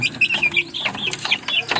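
Chickens clucking nearby in quick, uneven bursts, several birds, mostly roosters, overlapping with short sharp calls over a low background.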